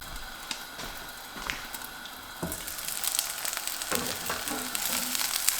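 Flatbread (schiacciatina) cooks in a covered pan with a little oil, giving a steady soft sizzle with scattered crackles and clicks that grows slightly louder and busier over time.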